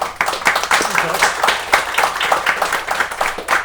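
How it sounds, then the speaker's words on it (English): A crowd applauding steadily after a talk at a game developers' meetup, dense overlapping claps filling the room at a fairly loud, even level for several seconds. "Can I have a round of applause, please?"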